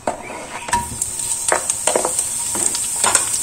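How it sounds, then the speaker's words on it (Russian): Chopped onion sizzles steadily in heated oil in a frying pan, with a utensil stirring and scraping the pan now and then. "Лук мы слегка обжариваем."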